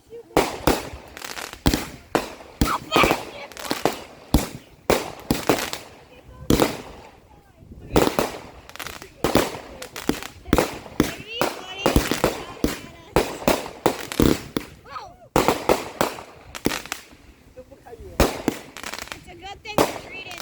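Fourth of July fireworks and firecrackers exploding close by in rapid, irregular bangs and crackles, with people talking and shouting between the blasts.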